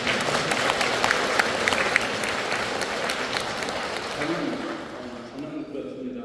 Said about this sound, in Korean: 박수를 한번 쳐드리겠습니다.